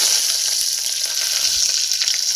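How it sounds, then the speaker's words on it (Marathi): Mustard seeds, cumin and curry leaves sizzle steadily in hot oil for a tempering of green moong dal amti, a close, continuous crackling hiss with no talking. "आता आपण आमटीला फोडणी घालतोय"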